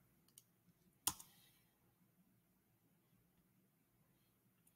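A computer mouse gives one crisp click in a quiet room, with a couple of fainter ticks before and after it.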